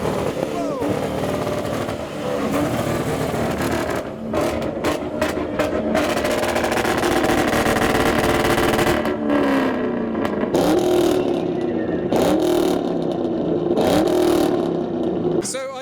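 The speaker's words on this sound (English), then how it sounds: "hear the V8 rev battle happening over there" Several V8 car engines rev hard in a rev battle at a modified car show, loud and continuous with rising and falling pitch sweeps, people chattering nearby.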